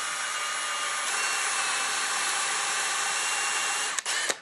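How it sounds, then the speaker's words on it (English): A power drill whirs steadily at high speed for several seconds while drilling a hole for a barbecue stand, loud and close, then sputters and stops with a couple of brief clicks. "There's an X where I need to put my hole so that the drill bit doesn't wander."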